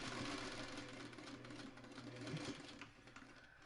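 A hand-crank sewing machine stitches quilt blocks with a steady, close mechanical whir and rhythmic needle clatter that runs the whole time, with no talking.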